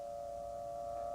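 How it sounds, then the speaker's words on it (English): A sustained civil-defense style chemical alert siren wails steadily at a Marine bunker during the opening of the 2003 Iraq War, a continuous distant tone holding through the clip without speech. "you can probably hear the sirens over here as well in the background"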